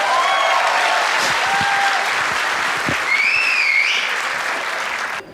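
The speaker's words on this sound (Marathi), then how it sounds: "थँक्स एकदा टाळ्या वाजायच्यात" An audience at a stand-up comedy show claps together, a dense, loud burst of applause that carries steadily for several seconds before tapering, with a few whoops and cheers rising over it.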